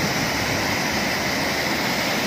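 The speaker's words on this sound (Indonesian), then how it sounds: "Sungai jernih di kota Seoul." A clear river flows through Seoul with a constant, broad rushing wash of water that stays loud and even throughout, no voices.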